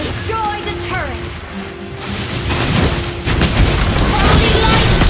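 Turret destruction in a Mobile Legends match, heard as a dense clash of booming impacts and bursts that builds louder toward the end, with game voice announcements mixed in.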